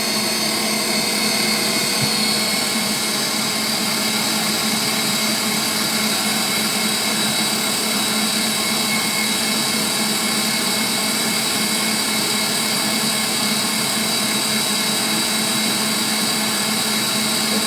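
A KitchenAid stand mixer whirs steadily while beating chocolate pie filling, a continuous motor drone and hum that holds at an even loud level throughout, with no one speaking.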